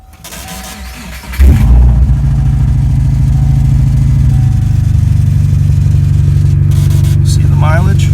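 A 2001 Subaru Forester S with a five-speed and a loud exhaust leak starts up and settles into a harsh, raspy idle, close and loud, continuing steadily; people talk briefly.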